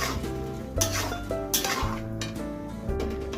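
White sauce pasta is stirred in a pan, with soft scraping and occasional clinks of a utensil against the metal. A steady tonal background runs under it.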